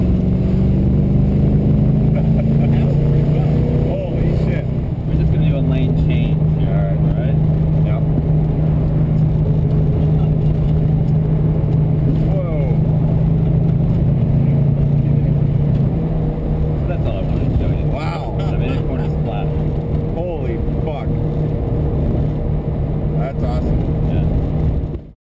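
Engine of a 1972 Dodge Charger roaring steadily through a test drive, a loud continuous drone with rising and falling revs, while people talk over it throughout.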